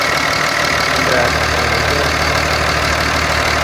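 A Dodge Ram 2500 with a Cummins 5.9L diesel, 81K miles, idles steadily in a continuous low, even rumble heard up close with no talking.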